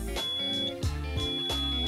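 A Daiso security buzzer shut inside a closed sensor light case gives a steady, muffled electronic tone, repeating in short bursts with brief dips between them, fairly subdued.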